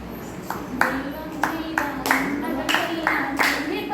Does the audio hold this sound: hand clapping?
yes